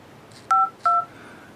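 Two short, clear keypad dial tones from a Casio G'zOne Commando Verizon phone beep in quick succession over faint background hiss.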